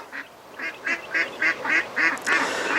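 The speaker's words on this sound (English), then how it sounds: "Here are the last little batch of chicks" A dozen or so young chicks roaming a farmyard give a steady series of short, evenly spaced peeping calls, about three per second, close and clear over a quiet outdoor background with no talking.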